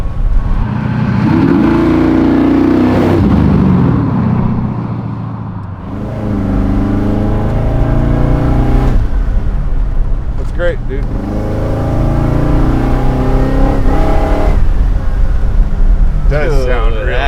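An LS-powered Chevy Bel Air resto-mod engine revs up close, its loud throaty rumble rising and falling through several blips under a voice talking.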